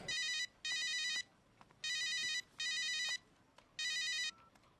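An electronic phone ringtone sounds in four short, even bursts separated by brief pauses, with quiet room noise between rings and no voices.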